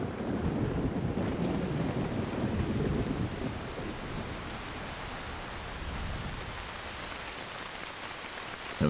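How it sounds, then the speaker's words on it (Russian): Heavy rainy-season downpour in the Amazon rainforest, a dense steady hiss of rain with rolling thunder rumbling underneath, loud and enveloping, easing slightly toward the end. "К концу декабря сезон дождей обрушился в полную силу."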